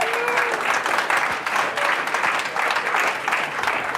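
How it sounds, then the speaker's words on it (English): Brief, lively applause from an audience at an engineering tech talk open house, a dense crackle of many clapping hands that stays fairly loud and even for about four seconds. "So big round of applause for Scott Clark."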